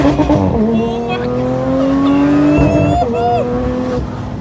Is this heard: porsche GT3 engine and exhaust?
yes